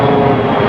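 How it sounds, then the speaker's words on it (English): A low-flying airplane near the airport in Queens roars overhead, loud and close, its dense engine drone filling the short moment with no voices. "You can hear the airplanes because, like I said, the airport is not far from here"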